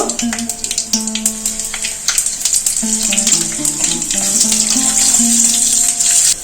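Whole spices, dried red chilli, bay leaf and panch phoron, sizzle in hot oil with a steady, hissing crackle that stays loud and continuous, with faint kitchen clatter and tonal hums underneath.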